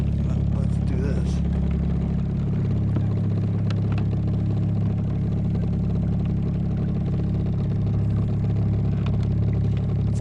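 A new motor on an Old Town Predator kayak runs with a steady, even mechanical drone, and a voice talks over it.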